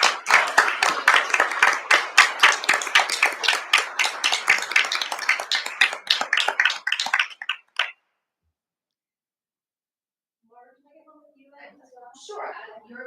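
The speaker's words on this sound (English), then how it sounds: "So let's all give them a round of applause." Audience applause at a township board of supervisors meeting, a dense burst of many hands clapping for about eight seconds that cuts off abruptly, followed by silence and then faint murmuring voices.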